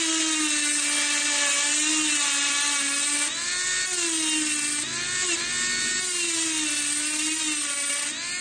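A handheld jewelry engraver whines steadily and loudly against a metal blank, holding one high-pitched tone whose pitch wavers slightly throughout.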